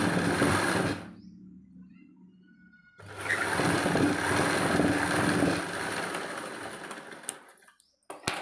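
An electric sewing machine stitches a crochet-strip belt onto a blouse, running in a steady close whirr, stopping for about two seconds, then starting again for a longer run before falling quiet.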